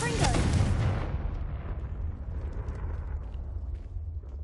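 In Hogwarts Legacy on PS5, a Confringo spell explodes with a loud, sharp blast at the start, then decays into a lingering low rumble and crackle.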